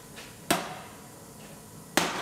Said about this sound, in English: It also seems to take a lot to get these welds to break. Maybe I'm using the wrong hammer.